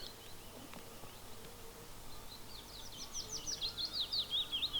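Quiet outdoor ambience on Longridge Fell with a faint bee buzz, then a bird begins singing a quick, repeated chirping phrase, growing clearer toward the end.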